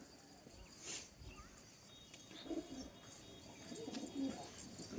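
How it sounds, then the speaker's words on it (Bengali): Pet pigeons coo softly in a quiet, breezy outdoor spot, with a few scattered low calls against faint wind noise. "এই হচ্ছে আমার কবুতর।"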